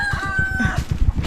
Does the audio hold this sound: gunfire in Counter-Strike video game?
no